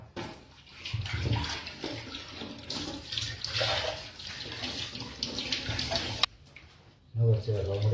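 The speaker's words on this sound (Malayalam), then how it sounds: "കുറച്ച് വെള്ളം കൂടി ഒഴിച്ച് കൊടുക്കാം" Water pours into a mixer jar holding potato, a steady close splashing stream that runs for several seconds and then pauses briefly before more pouring, with a voice talking over it.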